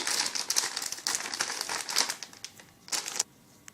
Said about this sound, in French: On prend une poche à douille et on coupera le petit bout qu'il y a ici.